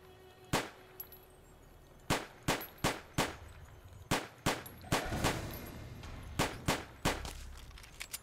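A PT92 Taurus 9mm handgun firing in Fallout New Vegas, about a dozen sharp, loud single shots at uneven intervals, several fired in quick pairs, with no talk over them.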